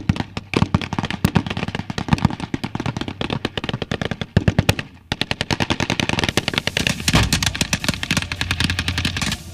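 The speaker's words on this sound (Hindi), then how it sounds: "यहाँ बंदूकें बोल रही हैं, तोप गरज रही हैं" Loud, close gunfire from the Syrian army fighting ISIS: rapid machine-gun bursts and dense volleys of shots rattle almost without pause, with a brief lull midway before firing resumes.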